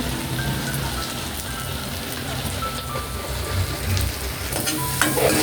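Soy sauce sizzling in a hot pan during an egg dish, a steady broadband crackle and hiss like rain that holds throughout, with no talking.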